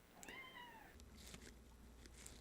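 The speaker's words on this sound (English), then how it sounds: "this dude just keeps meowing" A house cat gives a single clear rising-and-falling meow close by, followed by faint background rustles and quiet room noise.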